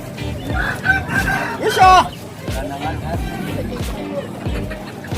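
A Bangkok-breed rooster crows at a busy chicken market in Ketanggungan, Brebes, Central Java, one strained crow rising above crowd chatter and other fowl clucking close by.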